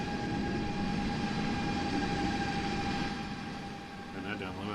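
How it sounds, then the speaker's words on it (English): Loud, steady aircraft engine drone from Microsoft Flight Simulator, a continuous whine with a sharp tonal line that eases slightly near the end. "That's a little loud on that plane there."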